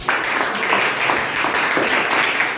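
Applause from a classroom audience after a group presents an Archimedes' principle experiment, a steady dense wash of clapping that runs evenly through the whole moment without letting up.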